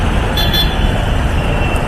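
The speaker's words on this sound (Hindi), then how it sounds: "हाँ बेकार की ट्रैफिक।" Busy city road traffic in India with a steady dense roar of passing cars and vehicles, broadband and continuous, with faint horn toots poking through near the start and end.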